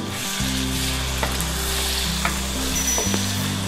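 Potato mungray sizzle and fry in desi ghee, a steady, close crackling hiss with a few light clinks of a stirring spoon against the pan.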